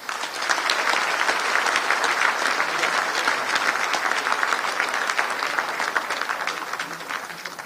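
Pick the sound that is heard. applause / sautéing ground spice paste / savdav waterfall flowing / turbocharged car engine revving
applause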